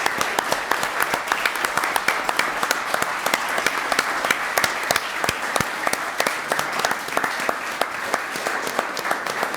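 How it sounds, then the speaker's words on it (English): Sustained applause fills a town council meeting room for a Little League all-star team, dense clapping from many hands that holds steady at a moderate level for nearly ten seconds. "Big round of applause for these guys."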